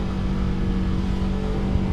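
Steady engine drone from a BMW F 450 GS adventure motorcycle under acceleration, heard close and continuous for a couple of seconds with no talk.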